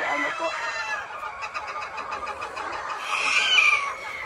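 Chickens and a rooster on a farm, heard from a moderate distance: overlapping clucks and squawks with a rising crow near the end, fairly faint, with no talk.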